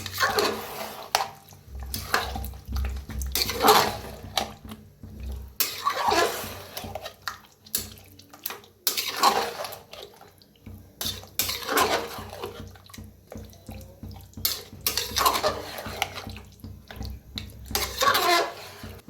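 Chicken being stirred and mixed in a cooking pot, soft scraping and wet clinks recurring in intermittent bursts at moderate volume, with quiet talk in places.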